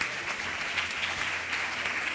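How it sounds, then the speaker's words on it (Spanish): Loud, sustained audience applause at a live cooking show event in Córdoba, with dense clapping that stays steady throughout and no talk over it. "Un aplauso bien fuerte."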